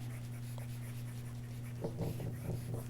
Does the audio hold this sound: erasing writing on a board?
yes